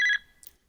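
A short electronic phone ring, a bright warbling tone lasting a fraction of a second, then quiet.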